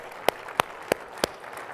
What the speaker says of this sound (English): Let's give a round of applause for Jerry Moran.